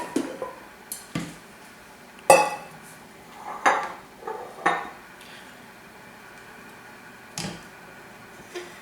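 Lab glassware being rinsed in a sink after mixing carbomer gel, with scattered clinks and knocks of glass and utensils against each other and water splashes, irregular and close, with quieter gaps between.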